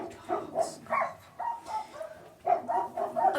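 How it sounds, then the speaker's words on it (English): Dogs on a small farm barking in short repeated bursts, close and moderately loud, with a brief pause between the barking runs. "Dogs."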